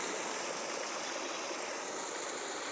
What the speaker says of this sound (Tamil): தண்ணி வரும் தண்ணி வேறு இப்படி வரும்